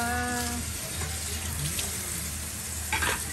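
Fruit rinsed under a running kitchen tap: a steady close hiss of flowing water with faint splashing, and a brief tonal hum at the start.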